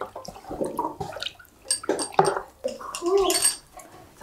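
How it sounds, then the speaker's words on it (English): A tannin and iron natural dye bath is stirred in a pot, giving sloshing, swirling water sounds in irregular surges, close by and interleaved with someone talking. "And I'm just going to keep stirring."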